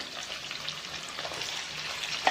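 Diced onions, two medium ones cut into square cubes, sautéing in a hot pan for a capsicum paneer do pyaza, giving a steady close sizzle with light stirring scrapes and a sharp clink near the end.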